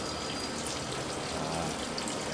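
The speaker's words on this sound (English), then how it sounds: "The pump is unplugged and the pipe is draining, so we'll let it completely drain." Water draining from an aquarium pipe after the pump is unplugged: a steady, close rushing and trickling flow that continues evenly throughout.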